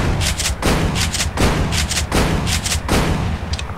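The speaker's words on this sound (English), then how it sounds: "Then we have the shotgun," Rapid repeated shotgun blasts from the Space Pirate mod for Doom 2, about five loud booming shots in steady rhythm, each with a sharp crack and rumbling tail, close and dense with no talk.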